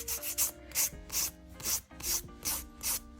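A nail file rasps back and forth over a fingernail to remove its shine before polygel, eight or so short, quiet, evenly spaced scrubbing strokes close by.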